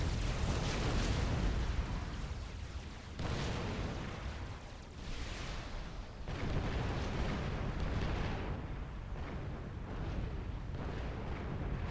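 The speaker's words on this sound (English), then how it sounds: "Oh, that bombing run, just brutal." Heavy explosions from a bombing run in the real-time strategy game Supreme Commander 2 roll on for the whole stretch, a loud continuous rumble broken by fresh booming blasts every few seconds with no talk.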